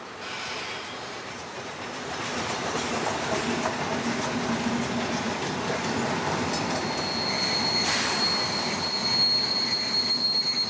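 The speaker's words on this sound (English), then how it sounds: "A passing steam train blends perfectly with a typical wooden country station" A steam train passes a wooden country station on an Austrian branch line in winter, a continuous broad rumble and clatter of carriages building slightly, with a bright squealing whistle-like tone near the end.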